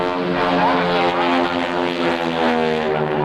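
A Stearman biplane from the Red Baron Squadron drones loudly at the 2002 NAS/JRB Willow Grove air show, a strong, steady propeller-engine hum with rich, even harmonics held throughout.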